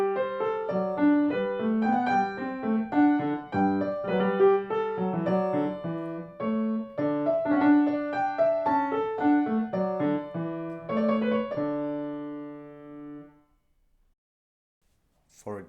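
A keyboard plays a partimento realization in double counterpoint and imitation, moving lines over a bass, moderately loud and clean, settling on a held final chord before silence.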